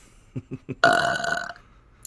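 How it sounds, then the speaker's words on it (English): A man burps on command: three short low grunts, then one loud, rough belch lasting under a second, close to the mic in a quiet room. "Being able to burp on command like that is true talent."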